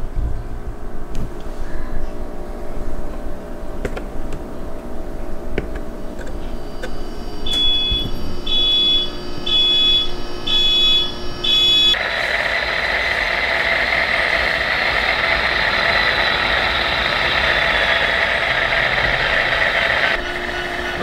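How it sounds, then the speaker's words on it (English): N scale model locomotive starting up on a layout's main line in a model rail yard, a steady electric hum with beeping start-up sound effects, then a louder hissing rumble that holds steady before easing. "I got my locomotive lined up on one of my main lines there, and I'm going to go ahead and start her up"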